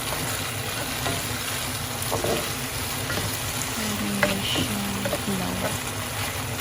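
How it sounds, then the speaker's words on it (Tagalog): Beef stir-frying in a pan, a steady sizzle and crackle running throughout with a few brief scraping stirs, fairly close and even in loudness with no talk over it. "stir fry ko lang siya"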